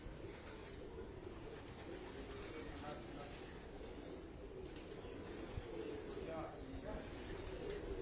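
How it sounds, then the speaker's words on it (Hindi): Domestic pigeons wheel overhead above a rooftop, heard as soft cooing and faint wing flutter within a steady, busy outdoor ambience, with someone talking intermittently. "ये भी ऊपर उड़ रहे हैं उस्ताद जी के कबूतर"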